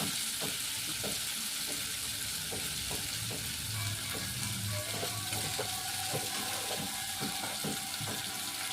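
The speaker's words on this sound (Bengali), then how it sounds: "ওই জন্য মশলাটা আগে কষিয়ে নিলাম ভালো করে" Spice paste for a hilsa fish curry sizzles and fries steadily in a pan, a continuous moderate crackle with occasional stirring clicks throughout.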